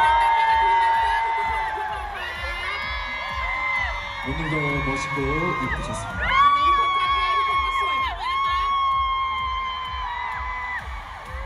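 A concert crowd at a show in Bangkok cheers and whoops for the dancers, a dense roar of shouts and applause throughout, with an amplified voice speaking over it.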